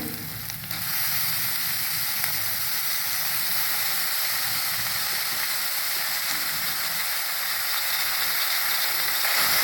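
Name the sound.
fenugreek leaves added to pan with fried onions, sizzling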